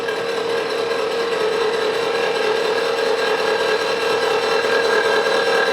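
A machine tool cuts straight edge castings in a metal shop, a loud continuous grinding drone with a steady mechanical whine that holds evenly throughout, no voices.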